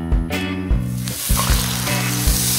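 Coconut-milk-dipped sweet bread sizzles and fries loudly in a hot pan, a steady close crackle with a few soft bumps as pieces settle.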